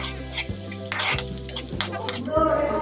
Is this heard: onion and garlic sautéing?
yes